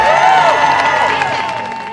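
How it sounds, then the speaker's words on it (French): Israelis gathered in Hostages Square in Tel Aviv cheer and applaud as a crowd, a sustained roar of voices and clapping with rising whoops over a dense wash of hands. "Les acclamations et les applaudissements des Israéliens rassemblés sur la place des otages à Tel Aviv"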